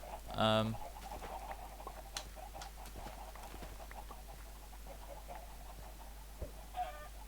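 A Minecraft chicken clucks in a short, loud burst at the start, with a softer cluck near the end, over quiet game ambience and scattered soft clicks.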